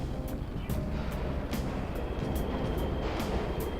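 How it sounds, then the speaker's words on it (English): Subway trains run in the Persona 5 video game, making a steady, loud, broadband rumble with a continuous roar that never lets up across the short stretch. "Trains are totally running."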